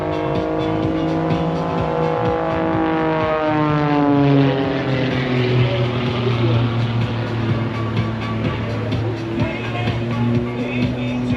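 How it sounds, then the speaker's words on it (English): Pitts Special aerobatic biplane at an airshow, its engine and propeller droning loudly and steadily, pitch sliding down as power is pulled back during a vertical hover manoeuvre. "Now watch it as he pulls the power back on the aircraft and just hangs in the air with the propeller"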